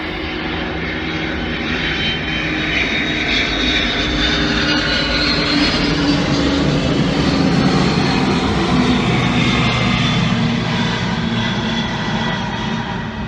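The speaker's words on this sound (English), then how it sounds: "DHL, bloody noisy planes." DHL cargo planes pass overhead in a loud, continuous roar that swells and fades slightly over about thirteen seconds, with no talk in the foreground.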